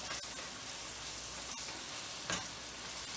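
Hamburger with celery and onions sautéing in grease, a steady close sizzle broken by a couple of sharp utensil scrapes and knocks against the pan.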